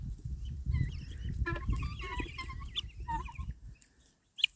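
Several chickens cluck and chatter nearby in a busy, overlapping stream, with low rumbling background noise underneath and a brief sharp sound at the end.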